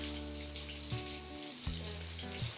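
Chopped onion and green chilli fry lightly in a pan, a faint, even sizzle with a few soft stirring knocks, quiet and without talk.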